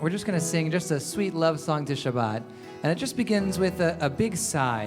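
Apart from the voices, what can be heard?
No distinct noise like a dog, phone or traffic.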